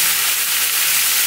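Brook trout fry in a hot pan, giving a loud, continuous sizzle and hiss close up with no voices.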